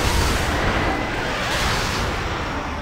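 A boss's bellow attack in the TERA dungeon Necromancer's Tomb: a loud, dense, roaring blast that fills the whole stretch without a break, easing slightly toward the end.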